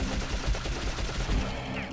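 Rapid gunfire from a whole magazine dumped into a werewolf in the video game Dark Cloud, a dense loud burst of shots over two seconds.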